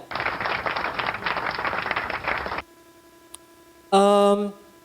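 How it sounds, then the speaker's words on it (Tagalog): Brief recorded clapping plays during a medical lecture on GERD, lasting about two and a half seconds before cutting off abruptly to a quiet hum, followed by a short, loud electronic tone. "palakpak muna tayo dyan"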